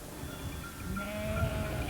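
Sheep bleat on a farm in Sardinia, several overlapping calls rising over a low rumbling background, fairly close and clear with no talk.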